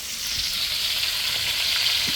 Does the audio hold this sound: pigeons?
no